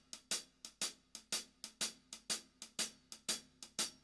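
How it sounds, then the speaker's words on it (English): Hi-hat alone ticking out a typical shuffle rhythm, crisp close strokes in a steady swung pattern of about three per second, fairly quiet and with no voices. "So if I was playing a typical shuffle rhythm on the hi-hat that sounds like this"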